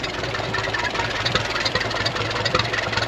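A 28 horsepower Ferguson tractor engine on an Australian farm running steadily, a close, loud, rough mechanical chug with a knocking texture throughout.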